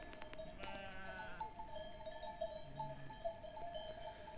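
Sheep bleating outdoors in the countryside, a few faint, distant wavering calls over a steady background hiss, with no talk.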